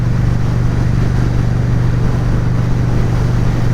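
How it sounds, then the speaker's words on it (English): Strong wind buffeting a rider on a motorcycle cruising a highway at around 70, a loud, constant roar with faint engine rumble beneath and no voices. "There's a ton of wind today, so I'm getting kind of pushed around in this lane"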